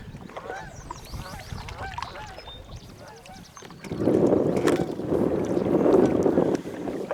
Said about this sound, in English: Big family of geese.